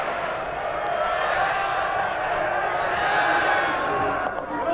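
Capacity cricket crowd at Old Trafford roaring and applauding steadily after a batsman's quick fifty in the 1981 Ashes, a dense, continuous wall of cheering heard from within the ground.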